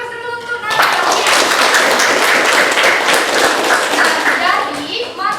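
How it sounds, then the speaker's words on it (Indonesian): A classroom bursts into applause for a student, dense clapping from many hands that starts after a brief moment of voices and holds steady and loud, with children's voices mixed in near the end. "beri aplaus dulu untuk Nana Aulia"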